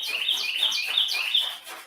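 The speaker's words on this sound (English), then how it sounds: "hear the birds. I think that's a robin." Bright, rapid bird chirps, a robin-like song played from a sound button in the background of a garage where a 1968 Mustang gets body work, close, clear and repeating in quick descending phrases.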